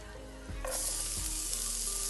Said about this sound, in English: So now we're going to put our garlic in there